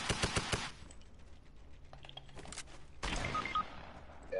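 Several quick, loud blasts from a tactical shotgun in Fortnite come in the first half second, then fainter clicks and scattered game effects follow, and another loud burst arrives near the end.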